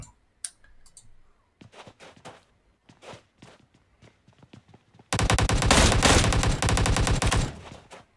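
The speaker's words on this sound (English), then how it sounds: "some shots already being exchanged" In a competitive shooter match, scattered clicks and footsteps come first, then a sudden loud sustained burst of rapid automatic gunfire exchanged for a couple of seconds before cutting off.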